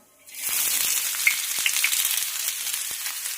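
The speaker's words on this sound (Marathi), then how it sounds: "तर कांदा आपल्याला छानपैकी असा परतून घ्यायचा आहे" Chopped onion hits hot oil with cumin seeds for street-style anda bhurji, bursting into a loud, steady sizzle that holds after a quiet start, with a few small crackles and pops.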